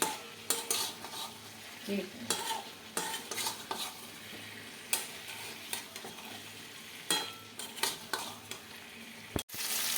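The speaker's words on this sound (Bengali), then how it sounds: "দিয়ে ভালো করে মশলাটার সঙ্গে নাড়িয়ে নেব, ভালো করে নাড়িয়ে নিতে হবে বন্ধুরা মশলাটার সঙ্গে।" Chicken pakora pieces are stirred through spices in a pan, with repeated scraping and clinking of a utensil against metal over a soft sizzle in an irregular rhythm, ending in a sharp knock.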